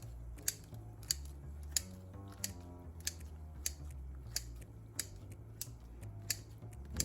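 Vegetables for chicken-flavored vegetable soup cut with regular crisp snips or chops, about two per second and evenly spaced, close and clear against a quiet low hum, no speech.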